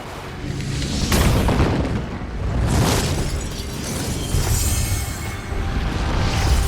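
A large film-set explosion for a Bond movie bursts with heavy booming roars and shattering glass, swelling in repeated loud waves across several seconds with no speech.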